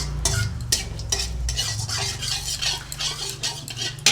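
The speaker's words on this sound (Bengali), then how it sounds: "তেজপাতাটা ভেজে নিচ্ছি।" Bay leaf and cumin seeds fry in oil for a Bengali egg and potato curry, with a steady close sizzle broken by repeated stirring scrapes and clinks of a spoon against the pan, no talking.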